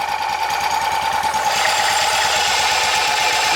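Wheel Horse garden tractor engine running steadily and loud with a belt clutch engaging to the transmission pulley, a continuous rhythmic mechanical drone with no voices.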